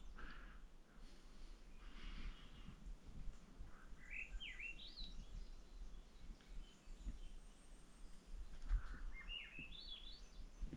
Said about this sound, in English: I just thought you should hear that bird.